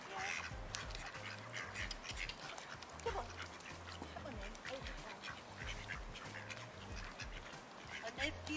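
Ducks quack repeatedly at a park pond, their calls overlapping in bursts near and far, with people talking in the background.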